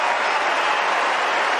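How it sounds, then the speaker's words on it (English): Crowd at Wimbledon 2022 applauding a tennis shot, a steady dense wash of clapping heard at a distance, continuous and even throughout. "I think he deserves a big round of applause after that 30-40."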